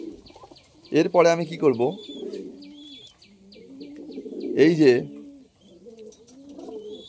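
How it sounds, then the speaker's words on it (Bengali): Adult pigeons give soft, low coos in the background while someone speaks close by in Bengali, their murmuring calls running quietly under and between his words. "ধাড়ি পায়রাগুলো যেগুলো আছে,"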